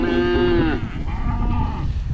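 Cattle on a farm, cows and calves gathered near a feed trough, give a loud close moo followed by a fainter lowing call against a busy rumbling background.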